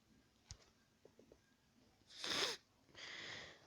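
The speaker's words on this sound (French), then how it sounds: "Désolé si je renifle un peu." Close, quiet sniffing from a person, two short breathy bursts near the end after a few faint clicks, no talking.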